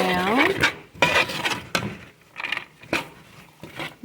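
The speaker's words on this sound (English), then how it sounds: "Now I'm going to stir it all around." Pecans are stirred in a pot, scraping and clattering in short bursts of utensil against metal, close and fairly loud, broken by pauses, with a voice speaking briefly at the start.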